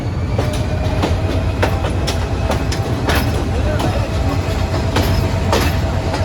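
Heard from on board, the Dewanganj Commuter train runs from Dhaka toward Jamalpur. A loud, continuous rumble carries evenly spaced, sharp clacks as the wheels cross rail joints.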